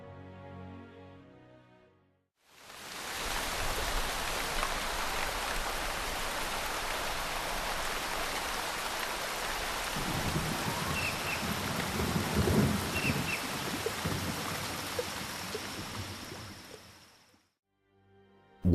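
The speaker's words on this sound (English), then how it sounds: "Just a little while ago, the raindrops were not present, but now they are here." Heavy rain pours steadily with deep rumbling thunder rolling through the middle, broad and enveloping, fading out at the end.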